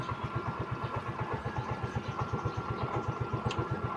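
A Yamaha MiO i 125 scooter with a fault that makes it stall soon after starting idles close by, its engine pulsing in a fast, even low-pitched putter that runs steadily throughout, with no voices.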